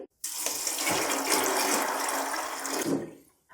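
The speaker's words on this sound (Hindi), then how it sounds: "थोड़ा सा मजीद पानी डालेंगे।" A steady stream of water pours and splashes into a metal pressure cooker for about three seconds, close and fairly loud, then stops.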